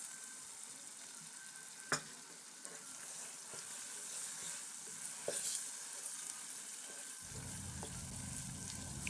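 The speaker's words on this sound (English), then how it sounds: "I just added the tomato and pepper mix. I will fry and mix everything together" A tomato and pepper mix frying with tomato paste for Nigerian jollof rice, a quiet steady sizzle with a few sharp spoon clicks, and a lower rushing noise coming in near the end.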